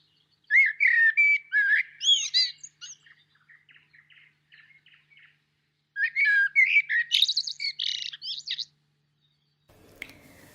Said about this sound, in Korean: 무스타 라스탓이라고 불리우는 새가 우는 소리는 참 듣기 좋습니다.